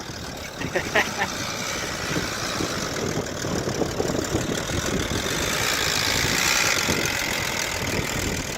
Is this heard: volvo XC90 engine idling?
yes